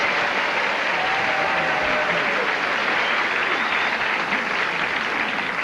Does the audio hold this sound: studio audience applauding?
yes